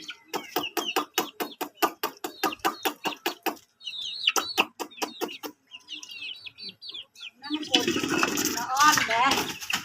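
A hen clucks in a fast, rhythmic series close by in a village. After a brief pause, clucks and chatter mix with people talking over them.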